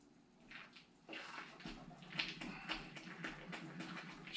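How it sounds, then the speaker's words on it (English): Rice pudding with egg stirred in a pot on the stove: soft, wet swishing and scraping that keeps on through the clip, faint and close, with no voices. "Just give it a good stir."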